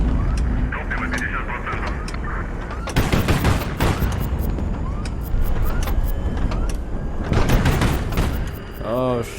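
Incoming missiles and combat fire in the naval strategy game HighFleet, with loud rapid bursts, whooshing streaks and booming impacts layered over a constant rumble, while a person talks over the action.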